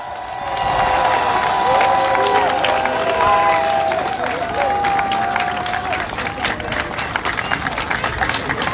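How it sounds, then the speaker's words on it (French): A crowd at an outdoor political meeting in Omboué, Gabon, claps and cheers, loud and dense at first with shouts mixed in, then settling into steadier scattered applause. "je vous demande ici d'applaudir pour la réussite du"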